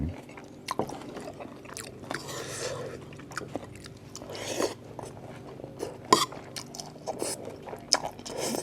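Close, moist chewing of eggplant curry with dried fish, with soft squishy bites and occasional crunches in an irregular rhythm.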